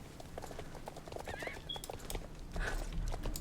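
A horse named Elder in the game Star Stable Online walks along with a steady, rhythmic clip-clop of hooves, soft and even, over faint background ambience, with a brief whinny-like call partway through.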